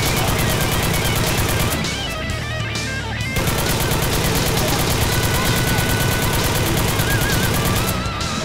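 Sustained, loud machine gun fire in the zombie shooter Left 4 Dead 2, near-continuous rapid shots with one brief lull, dense and close, with game noise layered underneath.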